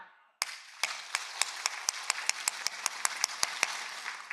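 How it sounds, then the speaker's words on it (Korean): Church congregation clapping together in a steady, even rhythm of about four claps a second, sharp and fairly close, following a brief moment of quiet. "박수 준비"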